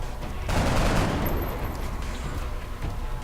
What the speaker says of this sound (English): we're going to advance her up to take a flanking shot on the last mine merging sectoid